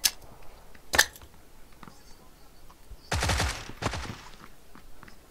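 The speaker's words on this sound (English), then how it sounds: "I can hear him shooting" Gunfire in the video game PUBG, sharp single shots near the start followed by two louder bursts of rapid automatic fire, with quiet gaps between.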